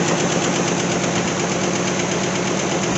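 A small engine with a freshly rebuilt carburetor runs steadily at a fast idle, a loud, even, rattling drone that holds constant throughout with no talking.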